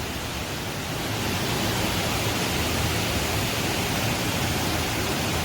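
Somerset Falls in Portland, Jamaica pours as a constant, dense roar of rushing water, steady and enveloping with no other sounds standing out.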